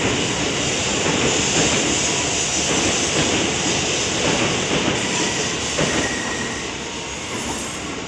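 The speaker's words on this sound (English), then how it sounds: "The 212 Sendai service departing platform 21." A Shinkansen bullet train departing a Tokyo station platform, with a loud, steady rolling roar of wheels on rail and faint clatter, easing slightly toward the end.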